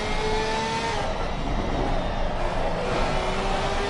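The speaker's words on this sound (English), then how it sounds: "Listen to the revs building." A Porsche race car in the Assetto Corsa Competizione racing game at the Hungaroring, engine revving steadily with rising tonal whine, loud and continuous over a broad roar for the whole stretch.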